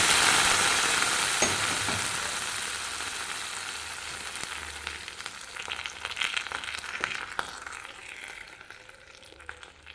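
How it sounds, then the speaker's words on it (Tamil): Hot tempering is poured into a mango buttermilk curry, starting with a loud burst of sizzling hiss that gradually dies down into softer bubbling crackles and occasional clinks, with no talking. "தாளிப்பை குழம்பு போட்டுக்கலாங்க"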